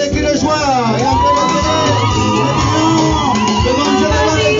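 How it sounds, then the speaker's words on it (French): Wedding crowd shouting cries of joy, loud and continuous, with whoops and raised voices blending into a dense festive roar throughout. "On accompagne avec les cris de joie."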